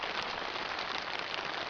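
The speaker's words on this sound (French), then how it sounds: "Vous entendez? Une énorme pluie." Heavy rain drums steadily on a tarp stretched over a small tent in the mountains, a dense, even hiss close to the microphone with no voices.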